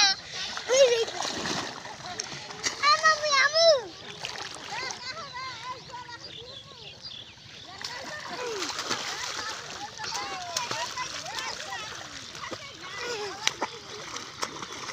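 Water splashing and sloshing as someone wearing pants wades through it toward a flock of ducks, with a voice and other voices chattering over it and birdlike calls scattered throughout.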